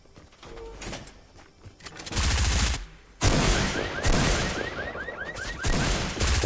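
Rifle gunfire in Fortnite played on Android: loud, rapid bursts of automatic shots begin around two seconds and continue almost without pause to the end, close and dense with no talking.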